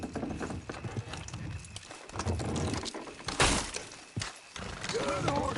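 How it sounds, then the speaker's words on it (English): In the Red Dead Redemption 2 video game, horses strain to pull a structure down: clopping hooves, creaking, and a loud cracking crash of breaking wood, with voices talking over it. "Horses will pull it clean down."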